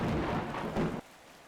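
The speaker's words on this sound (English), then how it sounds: "Oh, it's raining now." Rain and rolling thunder in the survival video game Atomic Exile form a broad, steady wash that cuts off abruptly after about a second, leaving faint background.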